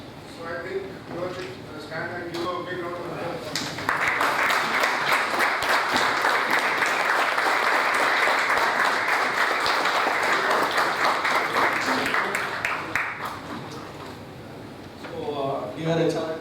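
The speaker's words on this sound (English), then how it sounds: "give a big round of applause" Conference audience gives a big round of applause, a dense, loud burst of many hands clapping that swells and holds for several seconds before easing off, with speech before and after it.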